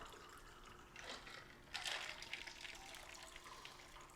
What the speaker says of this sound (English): And then we're going to pour in the top with some club soda